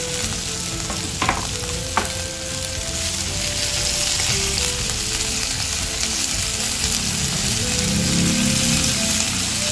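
Chilies fry in hot oil for tumis terasi, giving a loud, dense, steady sizzle with a couple of sharp clinks of a utensil against the pan early on and stirring scrapes throughout.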